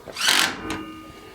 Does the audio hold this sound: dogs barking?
no